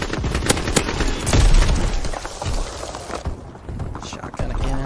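Rapid bursts of shotgun fire and grenade blasts from a Call of Duty match, loud and dense, with repeated sharp reports crowding over one another throughout.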